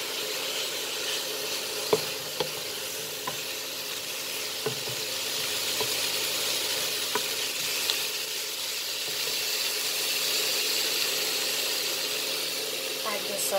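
Chicken and green chilies sizzle steadily in a hot pan during a stir fry, a close, even hiss with occasional clicks from stirring.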